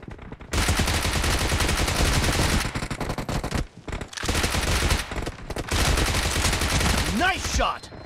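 Rapid gunfire in the video game PUBG, dense automatic bursts rattling loud and close in long strings broken by short pauses, with game voice callouts mixed in near the end.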